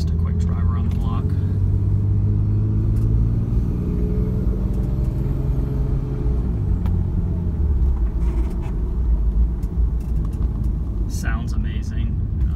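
A 1994 Toyota Supra twin turbo, cold and driven gently around the block, gives a steady low engine rumble and road roar from inside the cabin, with people talking over it.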